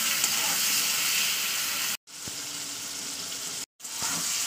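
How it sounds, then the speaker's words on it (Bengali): Seven or eight chopped tomatoes sizzle steadily in hot oil while being stirred, a continuous close frying hiss broken by two brief silent gaps. "তো এই পর্যায়ে আমি এবার টমেটোগুলো দিয়ে দিচ্ছি, যে 7-8টা টমেটো আমি কুটে রেখেছিলাম। তো এটাকে আমি ভালো করে তেলে একটু নাড়াচাড়া করে নেবো।"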